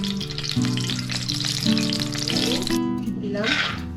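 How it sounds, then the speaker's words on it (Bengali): Two spoonfuls of ghee sizzling in a wok over a gas flame, ready for frying almonds and cashews, a continuous crackling hiss with people talking over it throughout. "এখন আমি ড্রাই ফ্রুট ভাজার লাগিয়া দিলাম"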